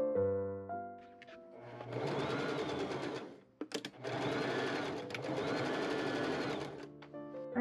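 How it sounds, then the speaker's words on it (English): Sewing machine stitching the sleeves of an Edwardian tartan flannel jacket, with velvet also in the seams: two sustained bursts of steady, close mechanical whirring separated by a brief pause, with quiet handling sounds before and after. "Machine sew the sleeves."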